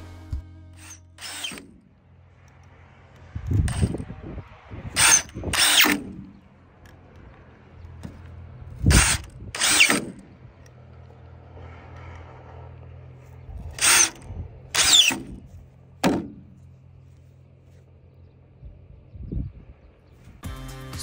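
A power drill drives screws into the tops of wooden beams on a backyard pergola, in repeated short bursts of whirring with pauses between, close and loud.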